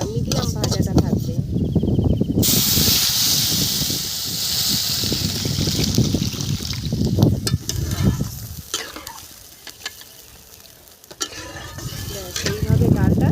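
Moong dal being fried in a pan, a steady sizzle with stirring scrapes and occasional clinks of a utensil, heard under stretches of talk.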